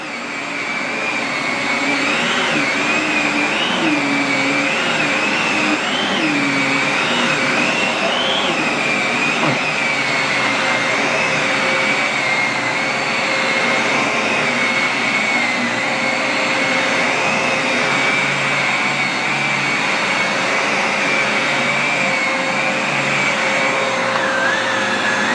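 A Sanitaire SC785 vacuum cleaner running on carpet in a home, a loud, steady motor whine with a wavering pitch as it is pushed back and forth, continuous throughout with no talking.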